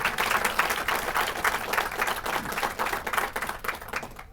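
Banquet audience at a basketball coaches' hall of fame dinner claps for a coach's wife, a steady patter of hands throughout with no talk over it.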